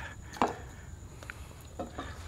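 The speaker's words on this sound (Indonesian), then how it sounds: "Oke, ini dulu kita tumbuk." Shallots and garlic are pounded in a mortar and pestle for a Balinese fish sambal. A few faint, widely spaced dull knocks sound against a quiet room hum, with no talking.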